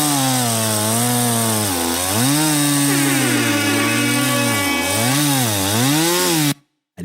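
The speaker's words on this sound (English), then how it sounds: "some new log sawing going on for him here for several new logs" A chainsaw engine revs loud and steady through a cut into logs, its pitch dipping and rising in waves for about six seconds before cutting off abruptly.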